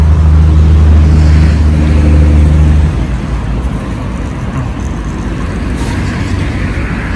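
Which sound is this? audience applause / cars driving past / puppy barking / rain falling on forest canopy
cars driving past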